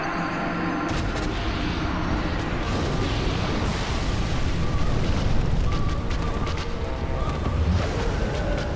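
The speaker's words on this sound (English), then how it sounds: "Forgot about that explosion." Loud rumbling explosions and booming blasts in Dark Souls Remastered fill the whole stretch, dense and continuous, with repeated bursts and crackling debris over a sustained low roar.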